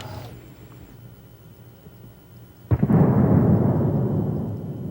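A single loud shotgun blast booms at a sporting clays range, a sharp report followed by a long rolling decay, after a quiet stretch with faint background hum.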